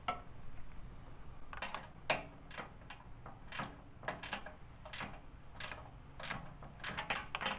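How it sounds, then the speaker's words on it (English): Metal wrench ratcheting and a bolt being worked loose on a ZX6R motorcycle, around the velocity stacks and air filter, giving irregular close clicks and taps with brief metallic knocks. "the next thing is we're going to remove this bolt completely now"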